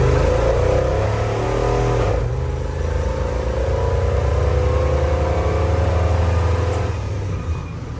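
A 1975 Toyota Land Cruiser FJ40 fitted with a V8 and a 4-speed automatic rumbles loudly nearby, engine revving with deep steady drone and rising whine throughout.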